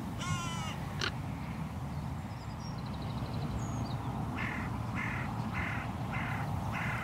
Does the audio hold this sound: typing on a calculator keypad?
no